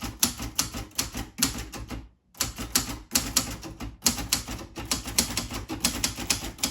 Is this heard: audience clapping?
no